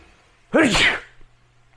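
A single loud, close sneeze bursts out after a quiet moment, then trails off.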